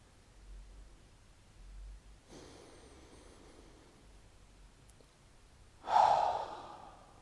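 Slow, deep breathing during a guided meditation: a soft, faint inhale midway, then a louder, fuller exhale near the end, close and alone.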